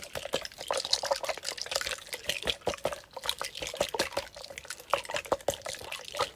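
Liquid sloshes and trickles inside a squishy toy shaped like a Capri Sun pouch, a steady close watery churning with rapid splashy pulses throughout.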